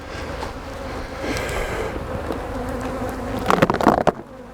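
Honey bees from a Russian colony swarm around an open hive box, their dense buzzing close and constant, with a few louder passes near the end and some wind noise.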